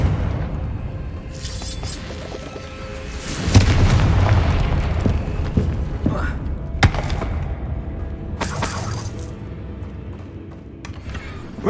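Spell explosions from the Confringo fire spell in Hogwarts Legacy, several booming blasts with crackling bursts over game ambience, one large boom standing out early.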